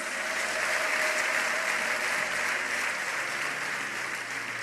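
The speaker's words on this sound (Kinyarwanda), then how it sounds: "Muyiha amashyi n'Imana ifite umutima mwiza." A church congregation applauds in a dense, steady roar of clapping that holds evenly throughout, with no voice standing out.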